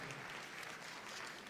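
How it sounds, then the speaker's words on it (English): Audience applause at the Crufts 2020 dog show for the shortlisted toy group finalists, a steady dense wash of clapping from a large crowd, faint and distant throughout. "round of applause for these"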